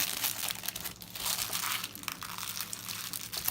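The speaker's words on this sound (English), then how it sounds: "we're just going to create a nice little fold in it, and then fold it again" Crinkling and crumpling of material being folded into a DIY trail meal sleeve, continuous close rustles with no talking.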